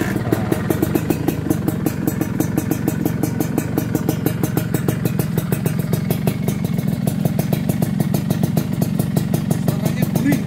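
A Suzuki Satria motorcycle engine starts and runs close by at a steady, rapid throbbing idle, its regular pulses continuing evenly throughout.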